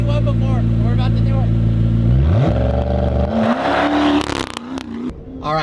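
A McLaren P1 in launch mode, its engine droning at a steady hold and then sweeping upward as the car launches, loud and close with rising harmonic whine and clatter. A person speaks over part of it.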